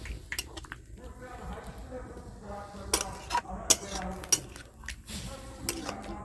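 A spoon stirs milk into a pot of bottle gourd payesh, making wet squishy sloshing with scattered clinks against the pot, while a voice talks over it.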